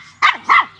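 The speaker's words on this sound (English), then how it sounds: "Hey, doggy, you're my everyday friend." A dog gives two short, loud barks close by, spaced about a quarter second apart, with near silence around them.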